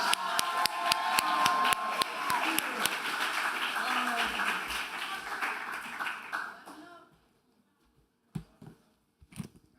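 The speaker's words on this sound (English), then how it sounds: "Please welcome with a round of applause Brother Kareem Muhammad for his speech" Graduation ceremony audience clapping loudly for several seconds before the applause fades out, followed by brief scattered noises.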